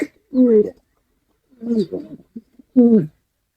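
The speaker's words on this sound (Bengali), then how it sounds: "কবুতর ডাক যারা শোনে নাই অবশ্য হ্যাঁ, দেখেন কি সুন্দর ডাকে নরের ডাক" A male pigeon coos three times in close, clear, throaty phrases separated by short pauses, with little else around it.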